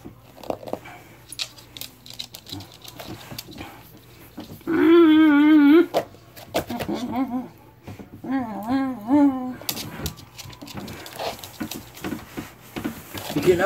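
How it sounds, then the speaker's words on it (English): A chihuahua-pug mix dog whimpers and gives whiny, wavering yelps in two close bursts, loud and near, with people talking around it. "Bark, bark, Fisher."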